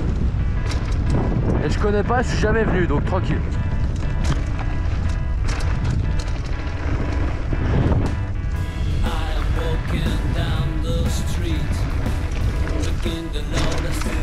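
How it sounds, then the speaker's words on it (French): Loud, constant wind buffeting the microphone while mountain biking at the Puy Saint-Vincent bike park, a broad low rumble running the whole time beneath someone speaking, with music or other voices layered in. "donc excusez-moi pour le bruit du vent"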